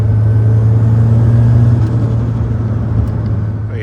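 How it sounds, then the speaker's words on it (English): A 400hp Nissan SR20 engine held at its injection-cut rev limiter, producing a loud, sustained and close rumbling drone that runs steadily for several seconds with no voices over it. "The limiter actually sounds good. It's on an injection cut."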